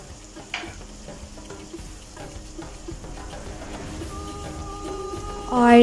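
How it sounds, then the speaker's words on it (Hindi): Small chicken pieces, cut karahi-style, fry in a karahi on a medium flame, giving a steady close sizzle with occasional stirring clinks that rises louder near the end. "और अब मैं चिकन को मीडियम फ्लेम पे फ्राई कर रही हूँ।"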